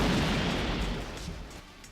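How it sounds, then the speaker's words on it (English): A movie explosion of boxes, a loud, broad roaring blast that fades out over about two seconds. "kick him into some boxes which summarily explode"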